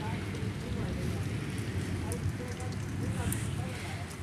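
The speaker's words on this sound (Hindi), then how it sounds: "बारिश दोबारा शुरू हो गई है।" Steady rain falls outdoors, a continuous close hiss with some wind buffeting the microphone, while a voice talks faintly underneath.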